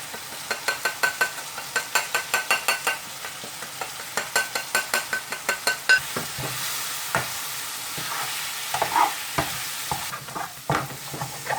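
Whole spices roasting and sizzling in a hot pan for a garlic chilli chicken curry, with a rapid run of rhythmic scraping stirs followed by looser, irregular stirring over a steady frying hiss.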